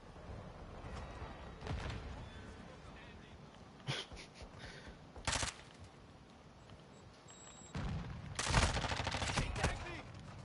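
Shotgun blasts from a video game sound in separate loud bursts spread across the stretch, several sharp reports with a quieter rumble and game noise between them.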